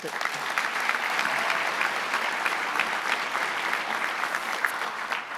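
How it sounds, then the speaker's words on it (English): A crowd applauding steadily throughout at a senior awards night, dense clapping with no pauses, fairly loud and close. "So we can give her a round of applause."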